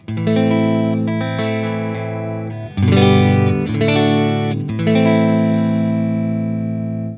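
A clean electric guitar rings out with sustained chords through a tube amp with Vintage V30 speakers, full and loud with a touch of reverb, playing alone without any talk.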